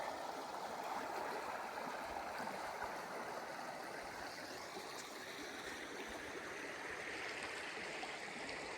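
A river runs right beside a roadside camp spot near Silver Creek Campground, giving a steady, broad rushing wash of flowing water that stays even and continuous throughout, with no voices.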